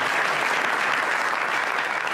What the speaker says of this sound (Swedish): Victor, ge honom en stor applåd, tycker jag.